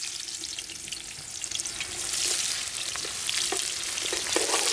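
Chopped onions fry in hot oil, a steady close sizzle that swells louder partway through, with soft scraping stir noises mixed in.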